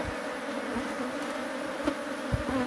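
Honey bee swarm droning steadily at a hive with honey supers, a dense continuous buzz close by with a few louder bees passing, and no voices.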